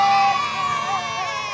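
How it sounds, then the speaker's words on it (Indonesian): A crowd of kindergarten children cheers together in a loud, sustained shout, the group voices ringing out close and bright for the whole moment. "Tepuk tangan sekali lagi bilang yeay."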